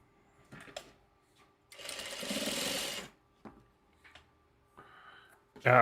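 A sewing machine runs in one clear stitching burst of about a second, with a few shorter taps and whirs around it in a quiet room; a person speaks between the bursts.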